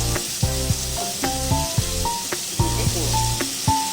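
Mustard paste, poppy seed paste, green chili paste and garlic frying in a pan after a black cumin tempering, with a steady loud sizzle broken by repeated scraping stir strokes in an uneven rhythm.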